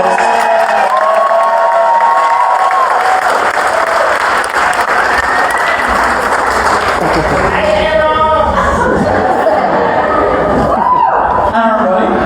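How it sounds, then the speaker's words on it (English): A live audience at a comedy show applauds and cheers loudly, with whoops and scattered shouts over continuous clapping, while people keep talking over it. "Aaron, give Aaron one last round of applause."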